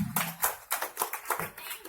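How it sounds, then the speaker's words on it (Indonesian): Scattered, uneven hand clapping from an audience at a Sundanese comedic wayang golek sermon, with about a dozen distinct nearby claps in loose rhythm, fairly quiet overall. "coba itu tepuk tangan dong yang meriah"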